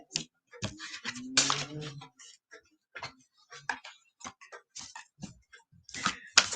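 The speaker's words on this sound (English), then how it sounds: "Let's shuffle these cards." Tarot cards being shuffled during a live reading, heard as rapid clicking and flicking bursts of varying loudness, close up, with a soft voice briefly audible in the background.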